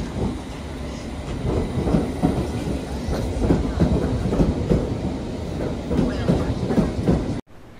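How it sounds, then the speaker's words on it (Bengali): A London Underground train pulls into the platform, a loud, steady rumble and rattle of wheels on rail lasting throughout before cutting off abruptly near the end. "সো এই তো ফাইনালি আমাদের ট্রেন চলে এসেছে"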